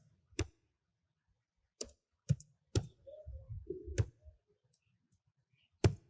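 Sparse single key clicks on a computer keyboard while HTML list items are typed, a few isolated taps spaced seconds apart with a soft rustle between, close and quiet.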